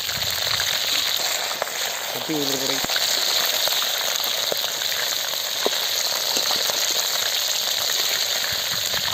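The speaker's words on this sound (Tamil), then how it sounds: "எண்ணெயில் போட்டோன்னா படப்பட்ட படப்படன்னு தெரிக்குது பாருங்க" Sea clams coated for a spicy 65-style fry crackle and sizzle in hot oil, a steady dense frying hiss running throughout with scattered sharp pops and spatters, close and fairly loud.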